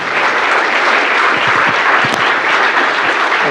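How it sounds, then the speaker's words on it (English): A conference audience applauds to welcome a speaker on stage, dense sustained clapping from many hands, loud and even from start to finish. "please join me in welcoming Joe here on stage with a big applause"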